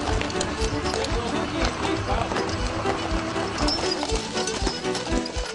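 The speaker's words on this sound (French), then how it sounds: "On promène les gens avec les chevaux." Horses' hooves clip-clop steadily at a sugar shack where people are given rides, a busy rhythmic clatter under continuous noisy chatter.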